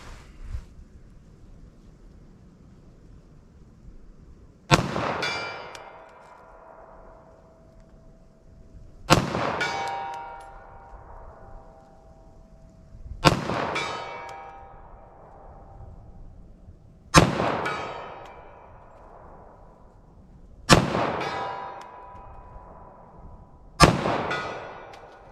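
.45 ACP handgun shots fired outdoors at distant targets, six single loud reports spaced about four seconds apart, each ending in a sharp crack followed by a long echoing decay.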